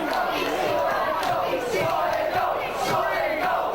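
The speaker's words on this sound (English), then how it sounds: "The crowd breaking into a chant of solid gold, solid gold" A wrestling crowd at an FWA wrestling show chants in a steady rhythm and cheers, loud and continuous throughout, a dense mass of voices filling the space.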